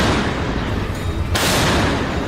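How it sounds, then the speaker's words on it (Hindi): A German PzH 2000 self-propelled howitzer fires in a loud, broadband roar of artillery blast that fills the whole moment with rumbling, noisy energy and a sharp change midway. "रूस के ठिकानों से आग के गोले बरसाती ये है जर्मनी की सबसे भरोसेमंद आर्टिलरी।"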